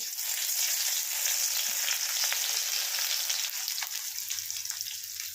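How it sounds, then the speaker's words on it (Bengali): A large onion fries in oil for beresta, giving a steady, even sizzle close to the pan with a few faint stirring sounds and no talking. "এখানে প্রথমে একটা বড় পেঁয়াজ আমি বেরেস্তা করে নেব"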